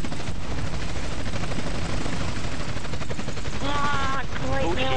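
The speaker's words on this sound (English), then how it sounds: "get in the helicopter!" In an online multiplayer video game, a helicopter's rotor thump runs under bursts of automatic gunfire, with a whining tonal effect near the end, while players talk over the action.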